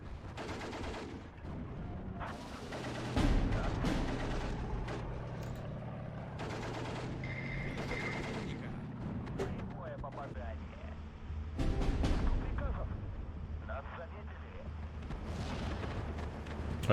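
Artillery shells landing around a tank in Steel Division 2, a steady run of dull booms and gunfire thuds rolling under ongoing game noise, with a person talking over parts of it.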